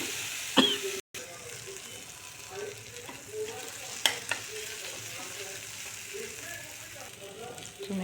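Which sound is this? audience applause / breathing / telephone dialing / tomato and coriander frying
tomato and coriander frying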